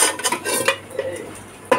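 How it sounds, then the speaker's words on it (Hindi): A heavy kadhai and a metal ladle clink and knock together in a few close, sharp metallic strikes spread across a short moment, with a soft stirring scrape between them. "आज मैंने अपने जहेज़ की कढ़ाई निकाली है और चमचा"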